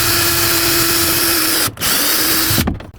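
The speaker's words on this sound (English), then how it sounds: "I'm going to go ahead and drill a hole so it does not split the wood" A power drill whines steadily at close range drilling a pilot hole in a wooden dresser, cutting out briefly near the middle and again near the end.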